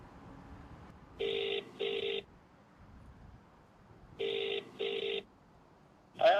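A telephone rings in repeated double bursts, two paired trills separated by a pause, then the start of a third ring cut off at the end, clear and fairly close over a faint background.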